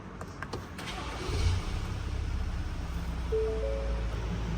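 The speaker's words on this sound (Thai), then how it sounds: "เดี๋ยวเราสตาร์ทรถให้ดูก่อน" A Ford Everest Sport 4x2 SUV from 2023 starting up: a short crank followed by a steady, close idle rumble that settles and holds, with a brief low tone near the end.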